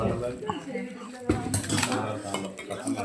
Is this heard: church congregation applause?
no